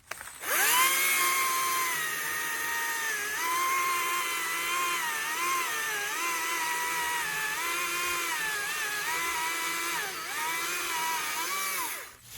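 Small saw bucking a felled log while clearing trees, a steady high whining motor with pitch dips as the blade bites, running near and continuous for about twelve seconds before stopping.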